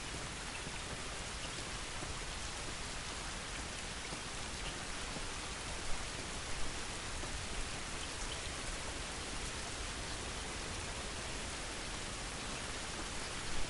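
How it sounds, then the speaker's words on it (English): Dense, steady rainfall in The Last of Us video game, a constant close hiss of drops on surfaces that stays even for the whole stretch with only slight bumps. "This rain ain't gonna do us any good."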